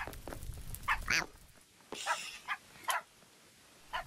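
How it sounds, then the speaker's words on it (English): Dogs barking in Minecraft, with a few short, sharp bark bursts spread across the clip over a quiet background, moderately loud and close. "I really want to befriend these dogs again, because they're going to annoy me if I play this much."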